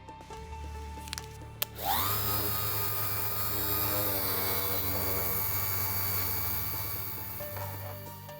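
A steady, loud electric sander whirs on primer with 280-grit paper after starting up with a sharp click, holding a constant high-pitched drone for several seconds.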